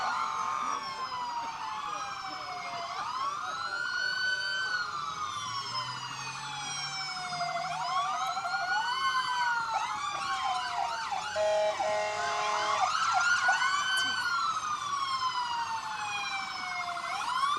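Several police and fire truck sirens wail at once during a Christmas parade, overlapping rising and falling tones sweeping continuously, loud and close over a low background murmur.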